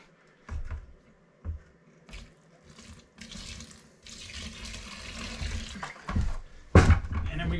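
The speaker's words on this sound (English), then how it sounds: "Then I'm gonna pour some water." Water splashes and gushes into a bucket in bursts for mixing cement board mortar, with some clunks and handling noises nearby, then a steadier pour toward the end.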